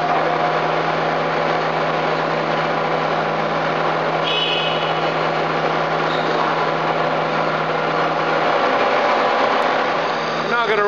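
A horizontal boring mill's spindle, on a Giddings & Lewis PC-5 table-type machine with a 5-inch spindle, rapids back from full extension with a steady mechanical whine and hum. The sound is continuous and fairly loud, with a shift near the end.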